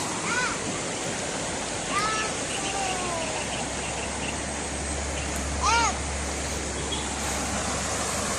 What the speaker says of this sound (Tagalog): So, yung tubig na to, nanggagaling to doon sa Kaliwa Dam. So, dito siya umaagos.